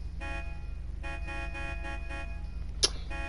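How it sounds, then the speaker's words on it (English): A car horn sounds in the video game Fortnite, played on PS4, giving repeated short honks over a steady low engine drone, with one sharper burst near the end. "You can stop honking."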